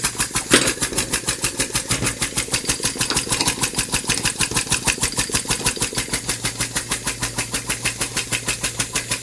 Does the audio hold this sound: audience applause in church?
no